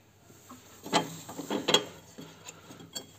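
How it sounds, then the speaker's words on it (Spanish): A ratchet wrench loosens two 10 mm nuts on a bracket of a Honda Civic IX 2.2 i-DTEC, giving quiet close clicking and metallic ratcheting in short irregular bursts, with no talking. "Son dos tuercas de 10, vamos a aflojarlas."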